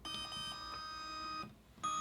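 A Yongnuo YN560 III speedlite flash beeps as it powers on, giving a few short, close, high electronic tones in a quiet room.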